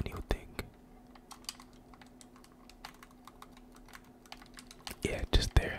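Game controller buttons clicking during a Fortnite Arena free-for-all match, a scatter of sharp close clicks over a quiet steady hum, with louder handling at the end.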